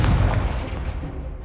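A Confringo fire spell from Hogwarts Legacy bursts in a deep, loud, rumbling explosion that fades over about a second and a half.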